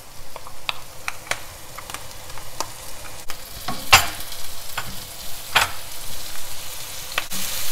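Crackling sizzle of shrimp frying in a non-stick pan as ground masala is stirred in, with occasional scrapes and clicks of a spoon stirring through it.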